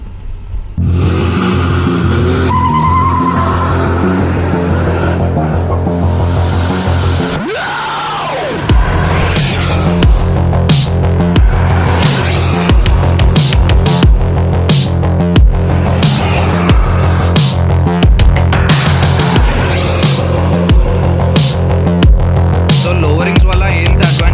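A modified VW Polo GT TDI diesel hatchback revs and launches hard, then roars past in loud flybys with a sharp pass around the middle, followed by more throbbing acceleration and popping bursts, all close and continuous.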